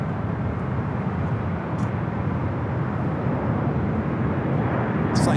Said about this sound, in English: Air Canada, Airbus A220-300.